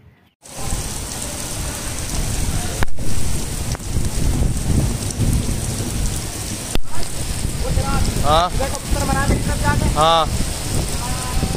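Steady rain hiss fills the background throughout, with a brief spoken word near the start and some chirpy bird calls popping up toward the end.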